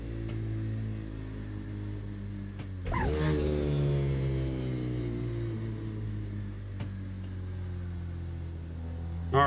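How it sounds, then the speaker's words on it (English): A car engine in the racing game Assetto Corsa revs hard, its exhaust rising in pitch through gears with a sharp shift midway, loud and close with no talk. "listen to the engine, man. The exhaust sounds so crazy on here."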